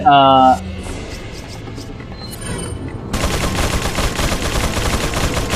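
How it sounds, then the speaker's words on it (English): Sustained machine gun fire from enemies in Resident Evil 4, a dense continuous rattle that starts abruptly after a brief loud burst and quieter game sounds, mixed with other game noise. "now we're fighting guys with fucking machine guns and shit"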